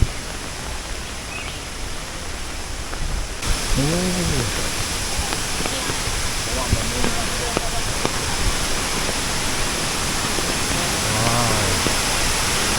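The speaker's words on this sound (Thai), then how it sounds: "ฝนตกมันก็จะสดชื่นแบบนี้" Steady rain falls at a hillside golf resort during the rainy season, a dense even hiss filling the scene throughout, with a few brief voiced sounds and birdlike chirps rising above it.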